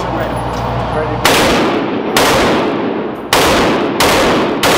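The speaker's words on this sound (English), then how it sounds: "G3, one shot at a time." G3 rifle fired one shot at a time on a real shooting range: five sharp, loud, close gunshots spaced about a second apart, each with a short decaying tail.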